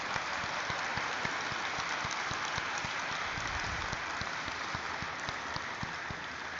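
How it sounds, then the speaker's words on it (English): Thunderous applause fills a listing ceremony hall at the National Stock Exchange for the Aditya Infotech IPO, a dense, steady wash of many hands clapping at once throughout, loud and unbroken with no talk over it. "with a thunderous round of applause"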